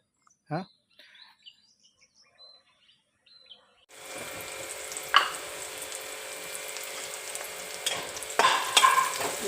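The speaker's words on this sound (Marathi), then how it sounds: "लाल हो लाल होईपर्यंत तो कांदा भाजून घेतलेला" Onion frying in a pan until reddish, for an okra dish: after a quiet start with a few faint sounds, a steady sizzling hiss sets in and continues with occasional stirring clinks.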